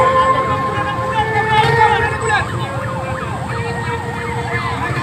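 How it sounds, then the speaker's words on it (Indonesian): An ambulance siren wails past on a badly damaged provincial road in Simalungun, North Sumatra, its rising and falling tone loud and close over steady traffic rumble and voices. "kita mau lewatkan ambulans dulu sebentar"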